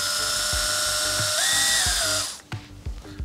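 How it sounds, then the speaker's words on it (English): A power drill whines as it pre-drills a side hole for a roller blind bracket. Its pitch rises midway, then it cuts off, leaving a few faint clicks. "I'm just gonna pre-drill the side hole"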